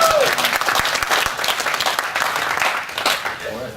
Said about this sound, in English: welcome to the stage with a large round of applause for the first time